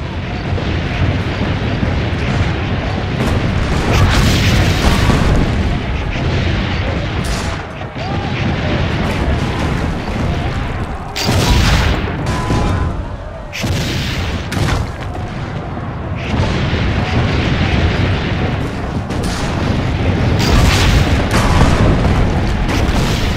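Loud, continuous battle din of cannon booms and explosions in the video game Assassin's Creed: Brotherhood, with heavy rumbling blasts that keep going throughout and brief dips between bursts, and faint voices mixed in.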